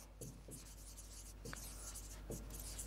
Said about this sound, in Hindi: अगर मैं सेंटेंस लिखता हूँ ये